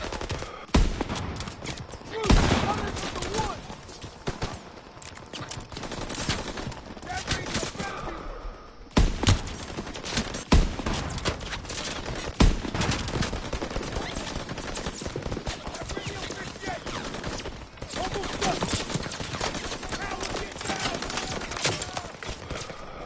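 Dense Call of Duty WW2 battle gunfire from the Battle of the Bulge, with sustained automatic bursts and rattling volleys over a loud, busy mix, sometimes with voices.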